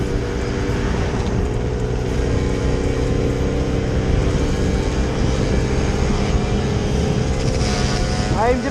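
A car overtakes on the right during a drive, its steady road and engine rumble heard from inside the vehicle, with a rising whoosh as it passes near the end.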